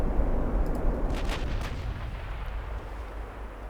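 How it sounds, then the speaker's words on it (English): Heavy warship turrets fire in a naval battle game, set in a 1965 Norwegian campaign. A deep booming salvo comes first and rolls on, a few sharper cracks follow, and then a long fading rumble. "I wanted to like show off its super duper uber premium deluxe firing turrets"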